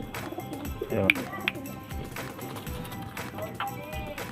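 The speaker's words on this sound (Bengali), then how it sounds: "এখানে কিছু পায়রা আছে" Pigeons, including Fulshira birds, coo faintly in the background of a loft while someone talks over them, with light taps and movement noises.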